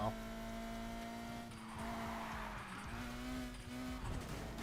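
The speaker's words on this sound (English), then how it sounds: "I do like the exhaust sound" A steady car engine drone with rising and falling pitch, a revving exhaust in the racing game Need for Speed Heat, running continuously with brief shifts in tone.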